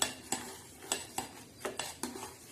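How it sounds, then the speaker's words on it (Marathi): A spoon stirs chana dal with onion and fresh coriander in a pan, making quiet, evenly spaced scraping strokes against the metal, about nine in quick succession, with faint sizzling underneath. "आता आपण हलवून घेणार."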